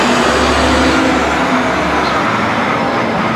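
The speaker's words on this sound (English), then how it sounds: "we stopped talking just a second because a big old truck came through, as you could hear" A big truck rumbles past on a road near an Appalachian Trail gathering, a loud, broad roar of engine and tyre noise that swells and holds with no talking over it.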